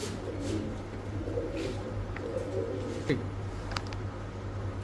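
A pair of black Saharanpuri pigeons coo softly in low, murmuring calls against a steady hum, with faint background voices nearby.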